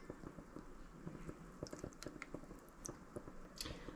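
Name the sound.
cottonwood oil poured into melted beeswax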